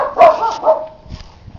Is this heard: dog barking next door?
yes